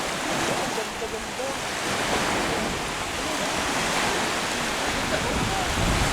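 Ocean surf washes steadily onto a beach, a continuous rushing roar with wind buffeting the microphone.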